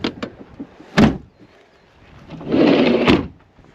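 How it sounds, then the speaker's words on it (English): Door of a campervan being shut: a couple of light knocks, then a sharp thud, followed by a sliding rumble ending in a firm close, near and fairly loud. "So, let's get the door shut."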